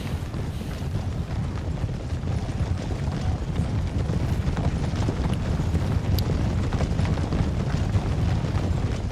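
A continuous, dense rumble of many hooves pounding at a gallop, loud and steady throughout, like a mass of horses charging nearby, in Total War: Empire.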